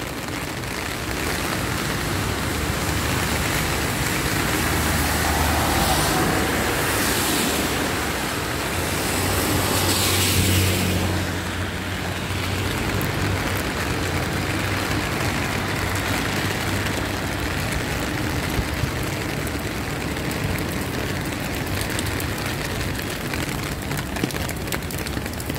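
Heavy rain pours down in a steady, dense roar. The hiss holds at an even loudness for the whole stretch, with no voices and no clear pauses.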